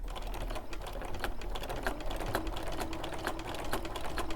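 A sewing machine binds a quilt with a steady, quiet, rapid ticking whir, close and continuous with no pauses.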